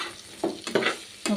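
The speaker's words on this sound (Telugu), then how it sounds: "ఇప్పుడు ఇదంతా కూడా కలిసేలాగా నీట్గా ఇలా కలుపుకుందామండి." Spiced chicken mixture stirred in a pan, with three short scraping, clattering strokes over a faint sizzling hiss, close and fairly quiet.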